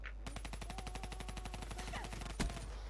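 Rapid automatic gunfire from Call of Duty Black Ops 3 rattles off in a steady, evenly spaced burst lasting nearly the whole moment, with a sharper louder shot near the end; no talking.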